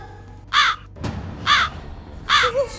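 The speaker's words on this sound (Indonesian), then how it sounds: "Itu burung gagak." A crow caws three times in a slow, evenly spaced series, loud and close, with a sharp knock between the first two calls.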